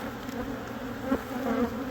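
Honeybees in an opened hive of about 30,000 bees hum in a dense, continuous close buzz, with individual bees droning nearer and then fading.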